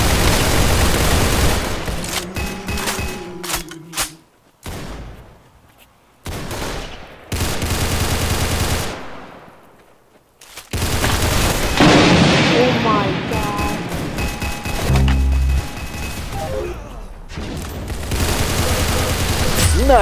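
Loud bursts of gunfire in the Roblox shooter Arsenal, rapid volleys broken by short gaps, with excited voices talking over the shooting.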